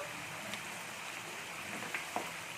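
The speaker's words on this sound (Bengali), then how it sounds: "আমি কিন্তু গ্যাসটা একটু কমিয়েই ভাজছি" A sabudana mixture frying in oil in a pan over a gas stove turned down low, giving a soft, steady sizzling hiss with a few faint pops.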